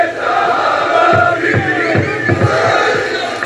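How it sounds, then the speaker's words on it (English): A crowd of Israeli football fans marches toward a stadium, chanting slogans in unison. The dense mass of voices stays loud and steady throughout, with rhythmic shouted accents roughly every half second. "a crowd of Israeli fans chant anti-Arab slogans as they march"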